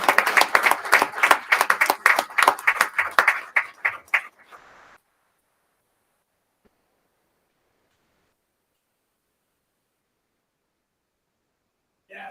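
An audience at a school district board meeting claps for a speaker: a dense burst of rapid, close claps that thins out after about four seconds and falls to silence.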